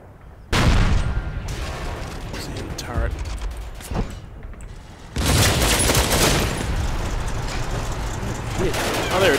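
Tank guns firing in a Combat Mission World War II battle game, with sharp loud reports and booming blasts followed by rumbling decay, a second heavier burst of fire at mid-clip, and someone talking over it.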